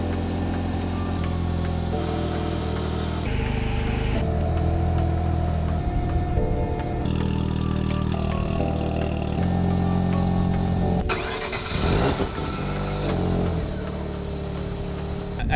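A race car's engine runs continuously as it warms up to temperature, a loud steady rumbling idle with slight shifts in pitch and a brief louder disturbance partway through; a person talks over it at times.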